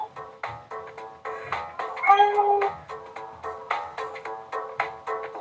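A tabby cat meows repeatedly in a steady rhythm, close and fairly loud, with one longer, more drawn-out meow near the middle.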